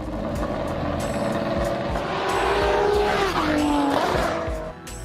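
Ferrari 599XX supercar with a modified 6-liter, 730-horsepower V12 revving to 9,000 RPM, a loud continuous engine roar that climbs and then drops in pitch with a brief tire squeal, heard close and without talk.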